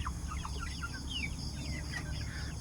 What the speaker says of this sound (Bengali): এই কাজের পাশাপাশি কিছু হাঁস মুরগি পালি রাজহাঁস আছে মুরগি আছে